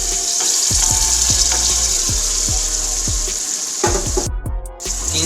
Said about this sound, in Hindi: अब इस मसाले में मैं दाल को शामिल करूँगा।